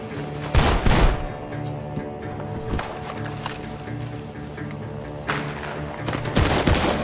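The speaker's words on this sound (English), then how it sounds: "the gunshots are coming from that bar" Gunfire bursts in the video game Red Dead Redemption 2 ring out over a steady droning background, a few sharp volleys early and late with quieter stretches between.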